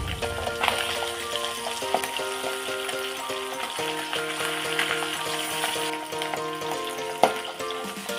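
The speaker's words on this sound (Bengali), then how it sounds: "এবার পাবদা মাছগুলোকে উল্টে দেবো।" Pabda fish, just flipped, frying in mustard oil: a steady close sizzle running under tonal background music, with a sharp crackle near the end.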